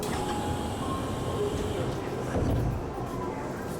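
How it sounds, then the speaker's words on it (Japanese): A local train rumbles steadily with a broad low roar and faint squealing tones as it slows into Motosumiyoshi Station on the Tokyu Toyoko Line in Japan, with voices faintly mixed in. "この各駅停車は対比線に入り、次の元住吉に到着です。"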